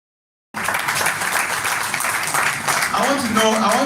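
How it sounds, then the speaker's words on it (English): Audience applause at a plant-based stem cell health summit in Nigeria, a dense, steady wash of clapping starting abruptly and continuing loud throughout, with voices mixed in toward the end. "A round of applause for them."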